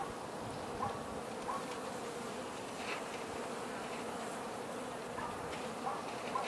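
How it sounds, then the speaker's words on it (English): Honeybees buzz steadily and softly at an open hive during a quick colony checkup, a low continuous drone with a few individual bees passing closer, and no talking. "And there's a bee that wants me out of the hive."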